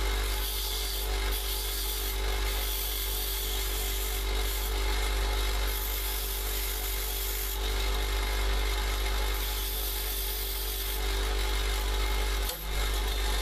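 Bench grinder wheel taking down the head of a lock pick cut from a hacksaw blade, a steady loud whirring grind held at an angle, continuous with slight swells and one brief dip near the end.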